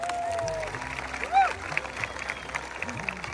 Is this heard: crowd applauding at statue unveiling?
yes